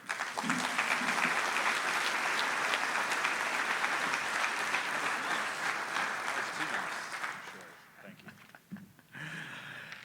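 Audience applause welcoming Representative Mike Gallagher at a defense forum in Fort Wayne, Indiana: sustained, dense clapping from a large crowd for about eight seconds, then thinning out and trailing off into scattered claps.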